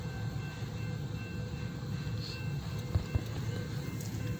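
A freight train rumbles steadily past the Beverly Street grade crossing, a low continuous roll of wheels on rail with a faint tonal whine and a couple of sharp clanks from the cars.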